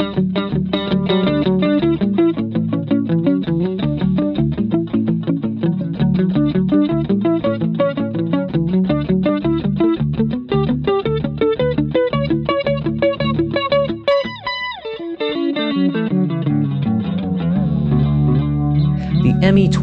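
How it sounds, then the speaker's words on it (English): An electric guitar played through a Boss ME-20 multi-effects unit with delay engaged: a steady run of distorted notes whose repeats stack into a dense, continuous wash, loud and up close, with a brief drop in the pattern near the end. "Check out my delay example."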